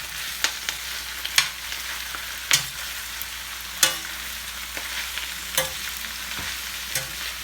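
A spoon stirs sautéed kale and grape tomatoes in a hot pan, with irregular scrapes and clicks over a continuous soft sizzle, close and moderately loud.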